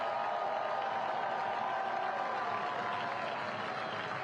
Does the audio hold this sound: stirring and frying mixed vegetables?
no